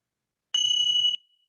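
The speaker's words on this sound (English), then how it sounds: "The bell got your attention, Alfie." Meditation bell struck once during a guided session, a short clear bright ring lasting about half a second before quickly fading, quiet and alone.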